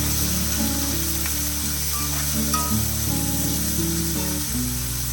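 Chopped onions go into a hot pan and sizzle continuously, with a steady hiss over a low background hum and faint scraping.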